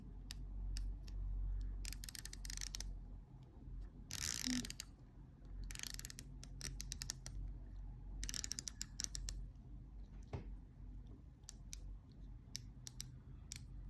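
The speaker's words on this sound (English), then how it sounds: "single direction bezel as we move in, very precise clicks, sturdy." The unidirectional bezel of a bronze automatic diver watch, the Aquatico Sea Star, is turned in short runs of crisp, close ratcheting clicks separated by quiet pauses.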